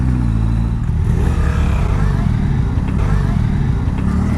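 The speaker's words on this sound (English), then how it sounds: "And I stalled it." A 2024 Suzuki GSX-S1000GX sport tourer motorcycle idles close by and loud, with a steady low engine rumble and some mechanical clatter running through the whole short stretch.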